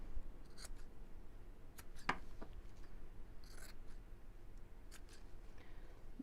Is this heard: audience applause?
no